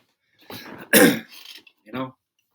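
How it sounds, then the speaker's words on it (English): A short, harsh throat clearing bursts out close by, surrounded by a few soft, wordless vocal sounds. "Excuse me for clearing my throat"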